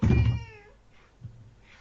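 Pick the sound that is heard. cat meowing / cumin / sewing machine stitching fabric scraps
cat meowing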